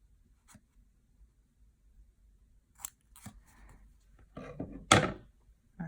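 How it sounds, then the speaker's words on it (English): Scissors snip paper while a planner notes page is being made up, a few scattered cuts building to a louder burst of closely spaced snips near the end, all close to the mic and with no talking. "I will go ahead and use the scissors."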